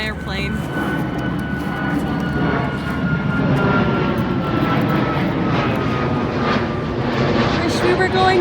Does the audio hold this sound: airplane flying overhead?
yes